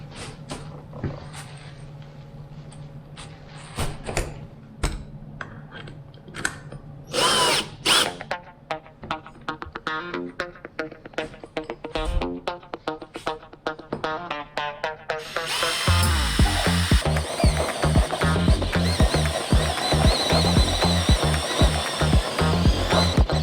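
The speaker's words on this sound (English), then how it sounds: "You'll notice it's a little tough to drill because the very top of this lid" A power drill bores into a fiberglass boat livewell lid in repeated short bursts, then runs in a longer, louder, grinding stretch near the end, close and with no talking.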